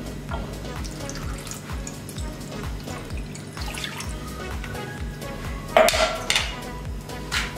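About a glass of water poured into a frying pan holding roughly 100 grams of tamarind splashes and trickles steadily up close, with a louder splash and clatter near the end.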